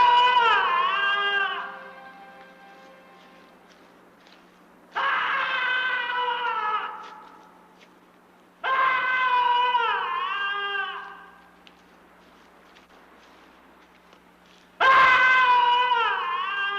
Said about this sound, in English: the skull's angry screams reverberate for miles